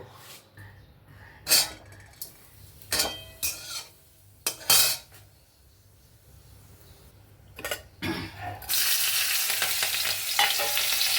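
Long beans and carrots with green chillies and spices hitting hot oil in a home kitchen, a loud steady sizzle building and holding after several sharp utensil clacks and scrapes against the pan.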